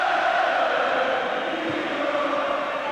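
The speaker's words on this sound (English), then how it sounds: "Crowd still buzzing." A large football crowd at an FA Cup Final replay between Crystal Palace and Manchester United keeps up a steady, loud buzzing murmur that fills the stadium without letting up.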